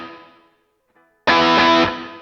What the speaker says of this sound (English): that is the sound of a Les Paul.